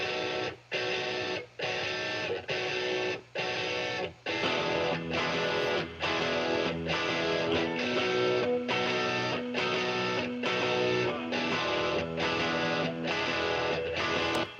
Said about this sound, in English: I just go with these like very like raw guitar sounds like this.